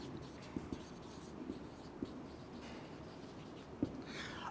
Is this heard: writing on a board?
yes